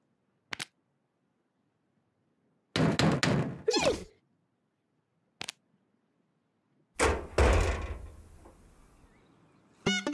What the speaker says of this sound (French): quelqu'un frappe à la porte.